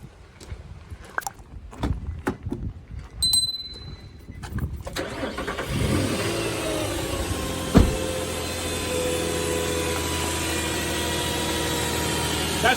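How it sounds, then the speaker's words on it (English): A 2007 Nissan Xterra engine cranks over and settles into a steady, smooth idle, with the hum sustained at an even level for several seconds after quieter handling noises at the start. "So let me show you how this engine runs."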